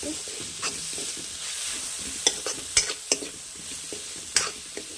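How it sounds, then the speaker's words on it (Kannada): Coriander powder and garam masala fry in a pan for a cauliflower masala gravy, a low steady sizzle under repeated scraping stirs and several sharp clacks of a spoon against the pan. "1 ಟೇಬಲ್ ಸ್ಪೂನ್ ಧನಿಯಾ ಪುಡಿ, 1/2 ಟೀ ಸ್ಪೂನ್ ಗರಂ ಮಸಾಲೆ ಪುಡಿ ಹಾಕ್ಕೊಳ್ಳೋಣ. ಹಾಕ್ಕೊಂಡು ಸ್ವಲ್ಪ ಫ್ರೈ ಮಾಡ್ಕೊಳ್ಳೋಣ."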